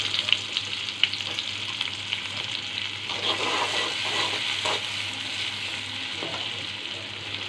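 Onions frying in oil in a wok sizzle steadily at moderate volume, with a couple of sharp clinks near the start and soft stirring scrapes, no talk.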